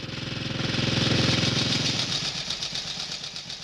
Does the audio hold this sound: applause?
no